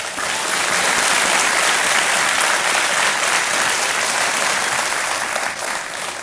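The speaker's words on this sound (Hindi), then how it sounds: "ताली बज जाए इनके लिए।" Steady applause from an audience, loud and continuous for several seconds, easing slightly near the end.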